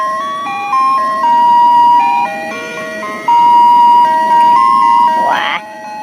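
A Betawi ondel-ondel toy plays a bright, looping electronic ice cream seller jingle, a simple chirpy melody of steady beeping notes that stays loud and close, with a brief warbling squeal near the end.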